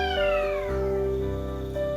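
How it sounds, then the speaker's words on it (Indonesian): A cat lets out a loud, close, drawn-out meow that bends downward in pitch, with no one talking over it. "itu ada suara kucing ya"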